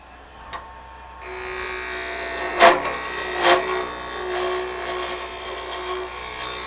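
A wood turning tool cutting wood on a spinning lathe: a soft motor hum, then two short, loud scraping cuts a moment apart, followed by lighter continued cutting against the steady whir.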